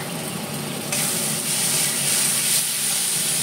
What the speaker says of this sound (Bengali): এখন আমি দিয়ে দিচ্ছি আদা বাটা